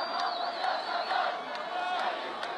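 A large crowd at a Libyan rally roars and chants continuously with a raised, distant cheering wash, punctuated by occasional sharp shouts and whistles.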